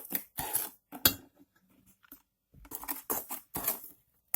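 Eggs, sugar and vegetable oil are stirred in a bowl with bursts of clinking and scraping against the sides, quiet and close, separated by short pauses.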